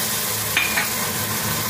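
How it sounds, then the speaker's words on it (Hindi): Onion paste frying with spices and ginger-garlic paste in a pot for kofta curry, a steady close sizzle with a faint scrape or clink partway through, no talk. "अब मैं प्याज को इन मसालों के साथ मजीद 10 मिनट तक इसे भूनूंगी"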